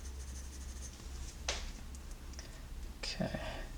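Light pencil strokes cross-hatching on paper, soft scratchy scrapes in short bursts, close but faint, with a few quiet whispery sounds in between.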